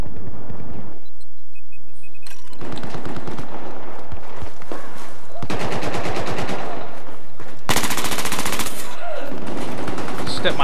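Gunfire in the Gun Master mode of the video game Battlefield 4, with loud, rapid automatic bursts and single shots close up, broken by short pauses and a sustained burst near the end.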